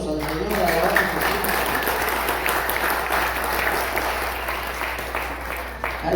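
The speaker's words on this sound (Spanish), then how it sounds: "Le damos aplausos al Señor" Applause from a church congregation during a sermon, a steady broadband wash of clapping lasting several seconds at fairly even loudness, with voices mixed in underneath.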